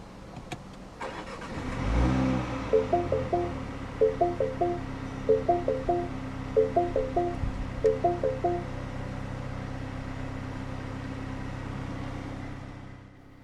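A 2020 MINI Cooper S Clubman (F54) cranks and fires up with a loud flare, then settles into a steady idle while a row of short chimes sounds in the cabin; no one speaks.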